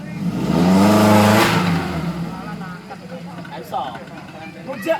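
An offroad 4x4 engine revs hard on an obstacle, a loud rising roar that peaks early and then falls back to a lower growl, with people talking nearby.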